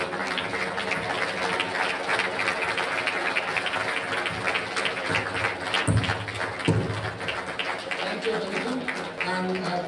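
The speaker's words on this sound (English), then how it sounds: "Please, let us give a big round of applause." A workshop audience gives a steady, dense round of applause that lasts throughout, with a couple of louder thumps partway through.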